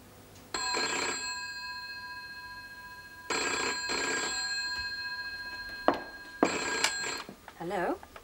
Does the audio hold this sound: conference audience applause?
no